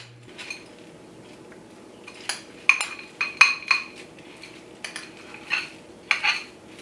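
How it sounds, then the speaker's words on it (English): Metal utensils clink and scrape against a dish while casserole ingredients with cornflake crumbs are stirred, a series of light, irregular taps and clinks over a quiet background, no talking. "Give them a good stir."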